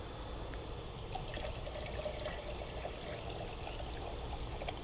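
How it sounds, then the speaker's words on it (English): Water from a blue mixing tank pours into a garden sprayer in a steady, quiet, continuous trickling stream outdoors. "top her off with some more water from my blue mixing tank"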